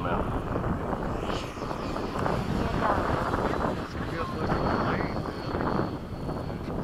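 An electric ducted-fan RC model F/A-18 jet with a stock airframe flies at a demo, giving a steady broadband whoosh that swells and fades slightly, with people talking over it throughout.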